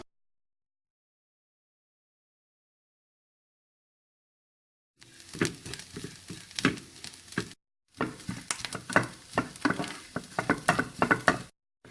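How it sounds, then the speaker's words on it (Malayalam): Grated coconut frying in oil in a pan until it browns, giving a steady crackling sizzle in two bursts separated by a short break, after several seconds of silence. "ഇനി ഈ സെയിം പാനിലേക്ക് കുറച്ച് എണ്ണ ഒഴിച്ച് തേങ്ങ ഒന്ന് മൂപ്പിച്ചെടുക്കുക, ബ്രൗൺ കളർ ആവുന്ന വരെ."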